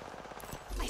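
A quick burst of rapid gunfire rattles out in the shooter game Apex Legends on the Broken Moon map, brief and moderately loud.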